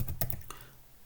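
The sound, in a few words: typing on a computer keyboard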